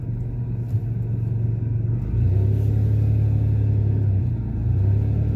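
A car near a Walmart rumbles past with a steady low engine drone that swells slightly partway through, fairly loud and continuous with no voices.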